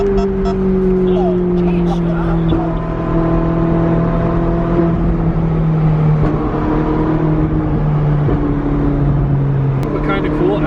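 A car engine pulls on throttle at a scenic pull-off in Yosemite, its droning pitch sliding up and down across several pulls, with scattered sharp exhaust pops.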